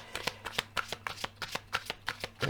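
Oracle cards shuffled by hand for a reading, a close, quick run of crisp riffling slaps in an even rhythm, heard alone.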